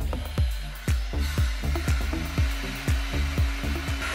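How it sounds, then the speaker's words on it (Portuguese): A 10 mm bit drilling through small 6 cm by 8 cm wooden pieces with a power drill, a steady motor whine broken by repeated sharp bursts as the bit bites into the wood, close and fairly loud with no talking. "Agora vou furar as 5 peças de 6 cm por 8 cm com uma broca 10 mm"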